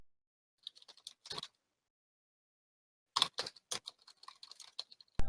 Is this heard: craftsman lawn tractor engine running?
no